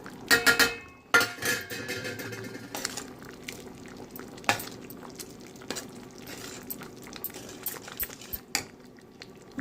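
Ridge gourd moong dal stirred in a pot after chili and coriander powder go in, with a spoon clinking and scraping against the metal: a few sharp knocks at the start, then softer steady stirring and faint bubbling, close by with no talk.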